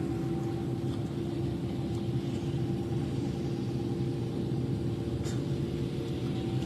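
Steady low engine rumble of several vehicles idling nearby, a constant drone with no talking.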